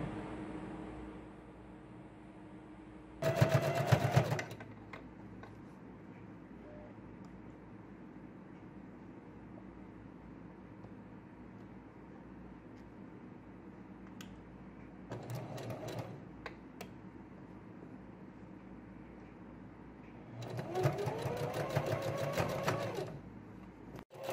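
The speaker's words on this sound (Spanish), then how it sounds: "pasamos costura también lo hacemos de este otro lado" A sewing machine stitches a seam on a girl's Snow White dress in three separate runs: a short burst early on, a brief one midway and a longer whirring run near the end, with near silence between them.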